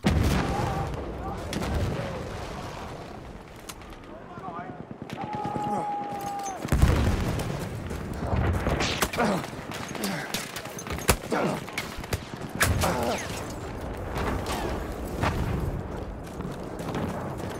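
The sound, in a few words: video game battle gunfire, artillery and explosions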